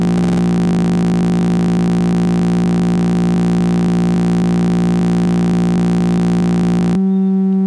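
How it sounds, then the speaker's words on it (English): Modular synth VCO tone with a BMC107 dual comparator threshold being adjusted, a steady buzzing, hum-like drone with rapid pulsing at the start, then an abrupt shift to a thinner tone near the end. "as I'm changing the threshold for what voltage on is for VCO1, our tone changes."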